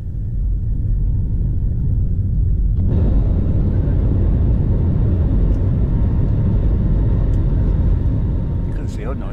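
An Air Malta Airbus A320 takes off in sunny Malta, heard from inside the cabin as a loud, steady low rumble that swells abruptly and holds, with a voice talking faintly over it.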